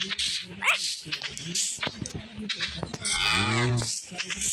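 A cow moos in a Minecraft-style farm video game, a drawn-out low call near the end, amid other game animal sounds and a person talking.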